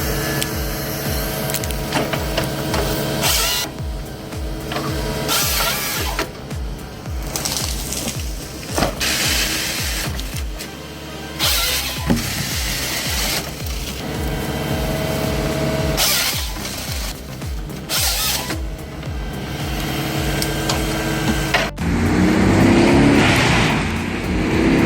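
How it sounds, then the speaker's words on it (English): A Bandit 1990 XP wood chipper with a 300 HP Tier 4 engine and 21-inch drum chews through timber in a forest stand, its loud, steady engine roar broken by repeated crunching and splintering bursts of wood being fed in. "The Bandit 1990 XP roars with a 300 HP Tier 4 engine, shredding tough materials with ease."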